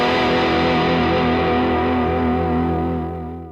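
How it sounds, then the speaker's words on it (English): A Gretsch G5420T electric guitar played through a mic'd Orange CR60 solid-state amplifier, a single sustained chord ringing out loud and full, holding steady before slowly fading. "Today, I'm going to demo and review the Orange CR60"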